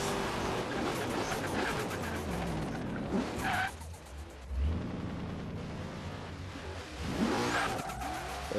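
Cars drag racing in Forza Horizon 3: engines rev and roar while tires squeal and skid, with the noise swelling and dipping as the vehicles accelerate, and no talking over it.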